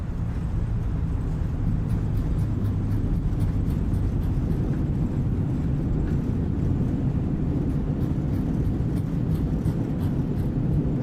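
Thrust reversers on an Airbus A320 roar steadily through the landing rollout in a flight simulator game, a loud, dense, continuous rumble that holds at the same strength throughout.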